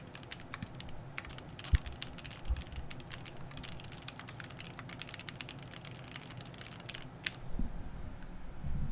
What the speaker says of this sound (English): the last ASMR sound effect that we have prepared is keyboard sounds.